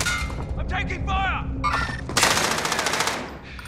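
Enemy machine-gun fire crackles in a Call of Duty: Modern Warfare battle, a dense loud burst following shouted in-game voices and radio chatter.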